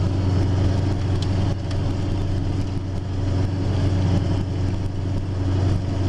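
A modified Ford 7.3 diesel pickup with an S468 turbo, towing a load, gives a loud, steady engine drone with a constant low hum and no pauses.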